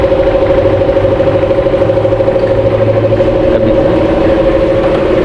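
A SYM 400cc big bike motorcycle engine runs steadily at idle, a loud, continuous mid-pitched drone with a fine regular pulse throughout, and a brief spoken phrase passes over it.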